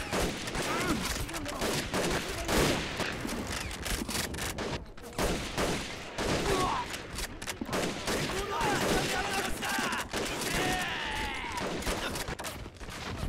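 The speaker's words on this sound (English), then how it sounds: "Going to keep the Chinese heads down now with this this volume of fire." Machine guns fire in the video game Men of War: Assault Squad 2, with dense rapid bursts and scattered gunshots that go on almost without a break. The sound is loud and fills the battle scene.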